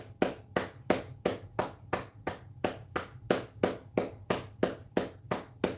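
A group claps hands in a steady, even rhythm during a guided exercise session, about fourteen crisp claps at roughly two per second, close and clear over a faint low hum.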